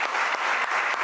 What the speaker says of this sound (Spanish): El aplauso de todos para Diego.